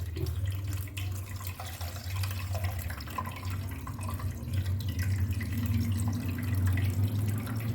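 Pomegranate juice squeezed through cloth drips and trickles steadily into a pot for homemade pomegranate molasses, a continuous liquid patter with a low background hum throughout.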